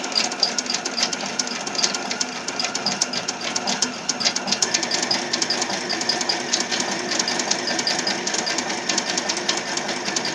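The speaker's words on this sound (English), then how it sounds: "I'm going to start serging this." A serger sewing machine overcasting the edges of an old bath towel, a continuous fast rattling hum with dense rapid stitching clatter, steady and close.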